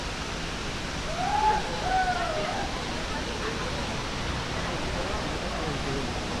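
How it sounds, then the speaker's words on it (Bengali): Banjhakri waterfall near Gangtok, Sikkim, gives a steady broadband roar from start to finish, with a brief voice rising over it early on. "এই হচ্ছে বাঞ্ঝাপড়ি ওয়াটারফলসের একদম মেন ভিউ পয়েন্ট।"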